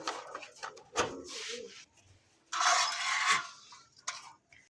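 Pigeons held for sale, show breeds such as Lahori, Bombay and satin types, with fluttery bursts and soft rustling close by, loud in two stretches with quieter gaps between.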